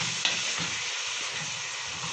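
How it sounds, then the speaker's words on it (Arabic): Meat sautés in a hot pan for a Libyan-style stew, giving a steady, close sizzle and hiss that stays even throughout without any talking. "هنحط بقى على ما اللحمه تتشوح كده معانا"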